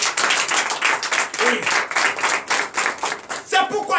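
A church congregation at a Sunday service in Comè, Benin, claps rapidly and loudly in acclamation, a dense rhythmic burst of many hands close by, with a brief voice near the end.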